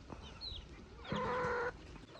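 Chickens cluck softly nearby, then one hen lets out a longer, louder drawn-out call before things quieten again.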